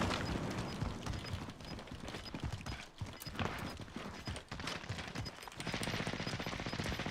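Video game gunfire crackles in rapid, dense bursts, sharp shots and automatic fire layered with clattering effects, loud and continuous throughout.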